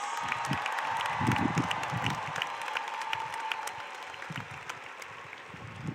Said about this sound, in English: give them a nice round of applause